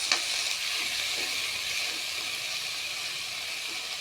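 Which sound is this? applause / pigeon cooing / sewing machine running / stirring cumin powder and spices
stirring cumin powder and spices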